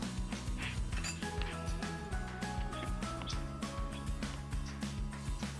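Stir-fry vegetables stirred in a pan for chopsuey, with rapid repeated metallic clinks and scrapes of utensil against pan over a sizzling background, fairly close, with no talking.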